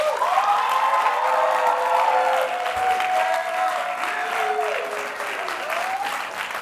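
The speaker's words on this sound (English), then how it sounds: "give a round of applause for M Night Shyamalan" Sustained audience applause with some cheering and a few whistles greeting M Night Shyamalan as he arrives for a live interview, a steady wash of clapping at moderate level.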